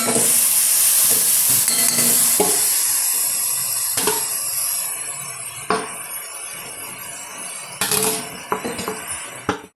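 Spinach leaves hit a hot pan for a Kerala thoran, giving a hissing sizzle that fades gradually, with occasional clinks and scraping stirs of a utensil against the pan.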